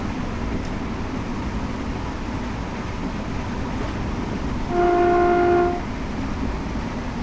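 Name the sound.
train passing in the opposite direction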